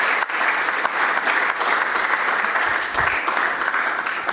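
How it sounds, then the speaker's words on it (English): A large audience at a public forum on mineral royalties applauds the chief executive, a dense, steady wash of clapping that holds at full strength for the whole stretch with no voices over it. "Ladies and gentlemen, another round of applause for the Chief Executive."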